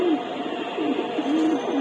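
Racing pigeons bred for tournament flying coo in repeated low, rolling calls, a close steady flock murmur with rhythmic swells.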